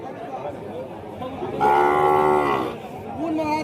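A bull mooing at a busy cattle market in Bangladesh rings out in one long, loud, drawn-out call of about a second, with steady crowd chatter and bargaining voices murmuring around it.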